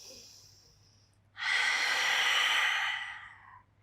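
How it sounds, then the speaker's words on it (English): Close breathing during a Pilates spine mobility exercise, with a faint inhale followed by a long, loud, airy exhale that fades out, no speech. "just breathe in and breathe out"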